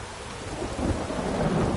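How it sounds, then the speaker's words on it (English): Steady rain and rumbling thunder from a thunderstorm in the video game The Witcher 3: Wild Hunt, a dense continuous wash that swells slightly louder partway through, with no voices. "The storm, damn it."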